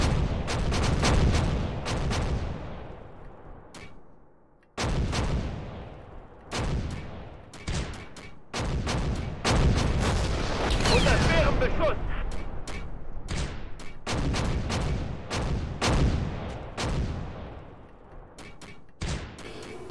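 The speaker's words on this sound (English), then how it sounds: "Now that they're zeroed in, the firing is becoming much more accurate." Mortar and artillery fire in a video game booms again and again, each heavy blast followed by a rumbling decay, sometimes in quick clusters and sometimes spaced out, loud and near throughout, with occasional talk.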